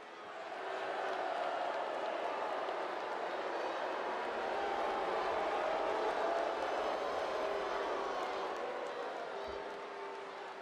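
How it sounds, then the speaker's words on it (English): A virtual wrestling arena crowd in WWE 2K22 booing, a sustained broad roar that swells slightly mid-way, steady and fairly loud throughout. "The crowd is booing"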